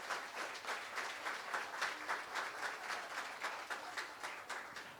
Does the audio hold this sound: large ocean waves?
no